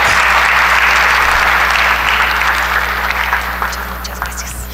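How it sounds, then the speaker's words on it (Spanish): An audience applauds a speaker at a medical lecture on managing diabetes mellitus, a dense, steady wash of many hands clapping that fades slightly toward the end. "Un aplauso, por favor"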